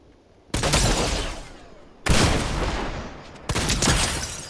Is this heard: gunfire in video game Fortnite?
yes